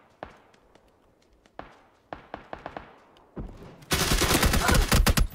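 Gunfire in PUBG: scattered single shots and short bursts build into a dense, loud stretch of rapid automatic fire near the end.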